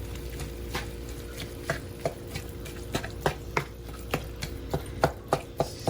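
Two pounds of ground beef is broken up and mixed in a pan for spaghetti sauce, with soft repeated scraping and chopping taps that quicken toward the end over a steady background hiss.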